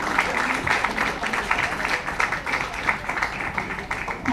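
An audience at a book launch applauds steadily, a dense wash of many hands clapping close by that holds at an even level throughout.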